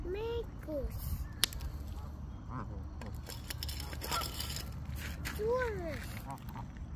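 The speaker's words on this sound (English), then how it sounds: "That ain't a nice duck. That's a goose. Goose. That's a mean goose." A mean goose honking outdoors, several nasal rising-falling honks at intervals, fairly close, over a steady background rumble with someone talking now and then.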